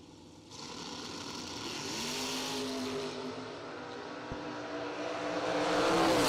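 An Opel and a 1986 Camaro door slammer launch down the drag strip together, a sustained engine roar swelling steadily louder and heavier as the run goes on.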